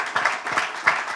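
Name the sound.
audience applause at a press conference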